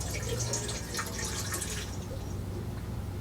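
Fresh water with no pressure runs from a hose on a sailboat, a soft, steady trickle and splash that stays faint and continuous.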